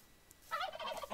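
A turkey gobbles in a Minecraft modpack game, a short burbling call that starts after a brief quiet stretch and rises loud in the second half, with no talk.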